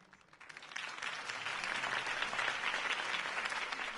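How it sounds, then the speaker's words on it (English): A crowd in a Batman video game breaks into loud, sustained applause that swells within the first second and keeps going steadily, dense clapping filling the whole stretch. "could have heard that applause"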